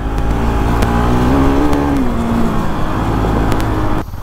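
A loud motorbike engine drones steadily while riding uphill in second gear, its pitch rising briefly then settling, with no voices.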